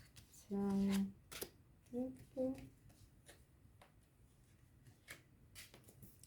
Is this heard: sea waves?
no